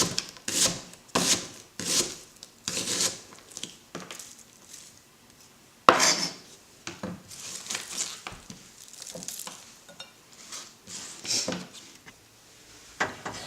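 An onion being cut on a cutting board in a home kitchen: a string of close, sharp knife chops and scraping rubs on wood, uneven in rhythm with short pauses, fairly quiet, with no one talking.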